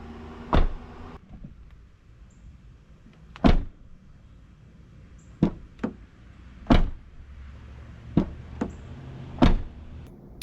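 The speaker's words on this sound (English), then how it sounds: "Let's see if the door will close and catch now." A pickup truck's rear door on a repaired latch is shut repeatedly, sharp slamming thuds and latch clicks at uneven intervals, about eight in all, close by in a quiet setting.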